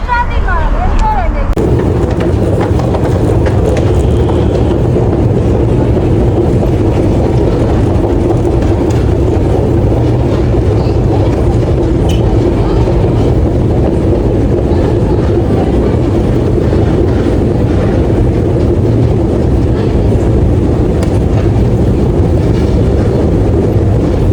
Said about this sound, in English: So this is the Yerevan metro